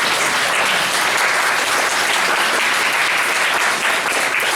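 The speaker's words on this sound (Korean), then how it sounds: "우리 박수 한번 보내주실까요?" A church youth congregation applauds a newly visiting guest, a steady, loud wash of many hands clapping that holds evenly throughout.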